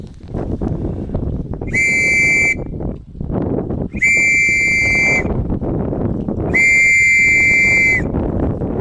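A whistle blown to summon the ferry across Loch Awe sounds three times, each a loud, piercing, steady tone of roughly a second, with wind or outdoor rumble between blasts.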